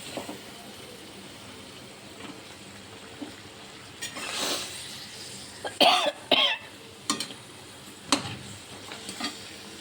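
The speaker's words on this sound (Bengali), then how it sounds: "মাছের মুড়োগুলো দিয়ে দিচ্ছি আর লেজা। মাছ দিয়ে দিলাম।" Snakehead fish heads and tails fry in a pan with a low, steady sizzle. Several sharp clatters and bumps sound close by, and there is no talking.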